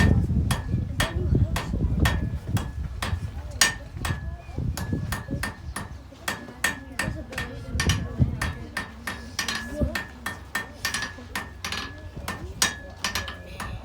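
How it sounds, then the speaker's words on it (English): A blacksmith draws out a nail point, hammer striking hot iron on an anvil in a steady, rapid rhythm of sharp metallic blows, close and loud, with short pauses as the piece is rotated. "angle my hammer slightly, and start drawing out the point"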